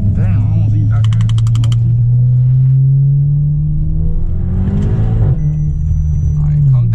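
A 2018 Chevrolet Camaro V6 RS with its muffler deleted accelerates hard on the street, a loud, raspy exhaust drone rising steadily in pitch, briefly dipping on a shift before climbing again, with someone talking over it.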